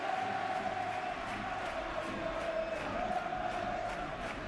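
Stadium crowd in the football video game PES 2021, a steady roar of cheering with a sustained chant-like tone, a distant broad wash of voices throughout.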